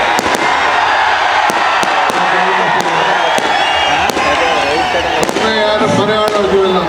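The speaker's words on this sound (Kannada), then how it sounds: "ಈ ಪಟಾಕಿ ನನಗೆ ಬೇಕಾಗಿಲ್ಲ." Firecrackers burst at the Karaga festival rally in Ramanagara, a string of sharp, loud cracks scattered irregularly over a dense crowd roar while someone speaks over a public address.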